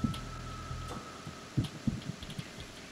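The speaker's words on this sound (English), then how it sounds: "Distinctive heartbeat." Heartbeat sound effect in the Metal Gear Solid 2 video game, faint low thumps in an irregular pulse over a quiet hum, heard alone.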